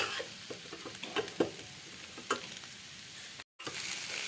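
Potato curry fries in oil with a continuous hiss and a few light clicks of stirring, and the sound cuts out briefly near the end.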